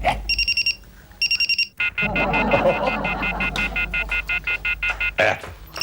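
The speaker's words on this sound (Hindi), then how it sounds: "इसका अलार्म बंद करो तो उसका अलार्म शुरू होता है, उसका बंद करो तो इसका शुरू हो जाता है यार।" Several alarm clocks in a home ring in turn, with loud, repeated rapid electronic beeping bursts that stop and start again, overlapping with a busier clatter of ringing in the middle.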